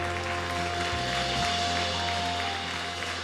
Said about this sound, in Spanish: Dale un fuerte aplauso al Rey que vive, iglesia, si tú crees que Él vive siempre.